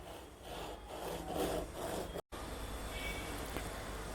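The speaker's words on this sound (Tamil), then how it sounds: "இப்போ இதை சென்டரில் மட்டும் 2ஆக கட் பண்ணிக்கலாம்." Knife sawing through an eggless chocolate sponge cake, cutting it in half with soft, steady back-and-forth scraping strokes up close, broken by a brief pause before the cutting continues more quietly.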